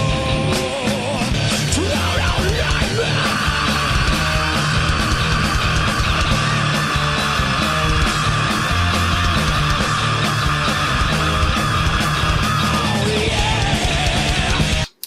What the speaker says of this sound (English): He can definitely still scream.